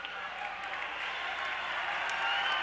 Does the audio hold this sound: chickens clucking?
no